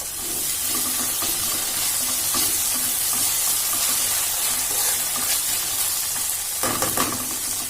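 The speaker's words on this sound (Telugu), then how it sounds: "చూడండి, ఇప్పుడు ఇంత అల్లం వెల్లుల్లి పేస్ట్ వేస్తున్నాను." Ginger garlic paste frying with amaranth leaves and onions in a pan, a loud continuous sizzle with repeated spatula scraping and a burst of splashy hiss near the end, close up and without speech.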